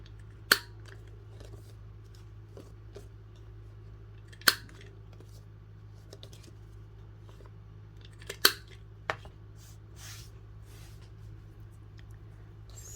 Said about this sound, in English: I just rounded all the corners, just a simple corner rounder punch